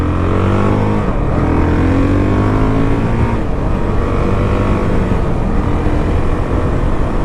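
A 2019 Honda CRF450L motorcycle engine runs loud and close while riding, a steady buzzing drone with rising and falling revs throughout.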